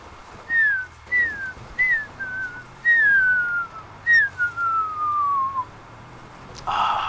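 A series of descending whistled whines, short and repeated at first, then one long drawn-out slide, a human whistle imitating a puppy's whimper, no talking.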